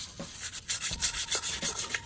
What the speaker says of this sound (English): let's get our brush here and just start doing some scrubbing